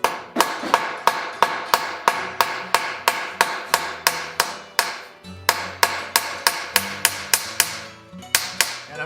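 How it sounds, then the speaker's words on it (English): Rapid, regular metallic ball peen hammer strikes peening over a rivet on a chessboard, close and loud, repeating in a steady rhythm with one short pause midway. "I'm coming in with the ball peen just to peen it over"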